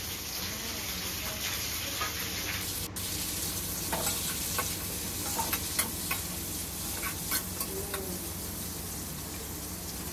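Onions stir-fry in a pan with a moderate constant sizzle, brief scraping taps of a spatula scattered throughout, and no speech.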